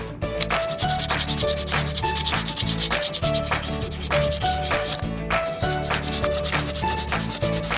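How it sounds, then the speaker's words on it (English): Sandpaper rubs hard back and forth over the damaged door of a 1997 Nissan Pathfinder, a close, continuous scratchy rasp in quick repeated strokes. "Alright, I'm gonna take some sandpaper, sand it down."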